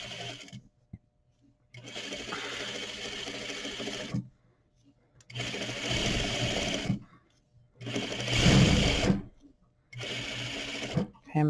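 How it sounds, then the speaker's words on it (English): Sewing machine stitching bias tape along the edge of muslin: four close, whirring bursts of rapid stitching separated by pauses, with some talk in the gaps. "I'm going to stitch with my muslin and bias tape edge right on the edge of the presser foot"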